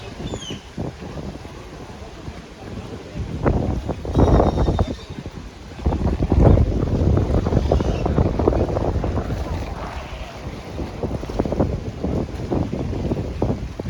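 Wind buffets a pier on Lake Chapala in Chapala, Mexico, on a windy day: loud, gusty roaring and rumbling microphone noise swells and fades across the whole stretch, with water lapping underneath.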